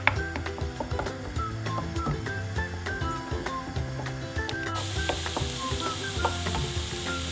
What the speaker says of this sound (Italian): Aggiungiamo un goccetto d'olio, facciamo soffriggere qualche minuto,